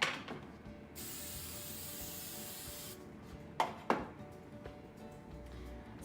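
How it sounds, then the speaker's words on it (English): A hair product sprayed from a can while the hair is slicked down makes two long hissing bursts, followed by short brushing and rubbing sounds close by. "Again, spraying and slicking."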